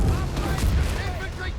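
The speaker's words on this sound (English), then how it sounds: "Panzer's being met here with heavy fire" Heavy gunfire and explosions pound German Panzers in the strategy game Company of Heroes 3, a dense rumbling barrage of overlapping shots and booms with a voice talking over it.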